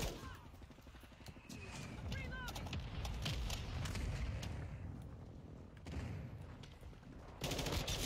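Video game gunfire, rapid automatic bursts and scattered shots with booms in the distance, fairly faint and mixed with voices talking over the action.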